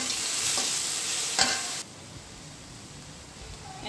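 Minced meat sizzles loudly in a hot pan while it is stirred, with a steady frying hiss and a scrape around the midpoint, then the sizzle drops suddenly to a much quieter simmer.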